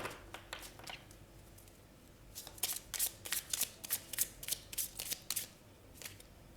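Tarot cards shuffled by hand during a general reading, a soft riffling that builds into a dense run of quick papery snaps, close and fairly quiet with no talking.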